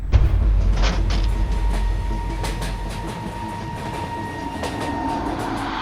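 A moving train rumbles loudly and continuously, heavy low roar with rhythmic clickety-clack of wheels over rail joints and faint metallic squeals, close and sustained throughout, with no voices.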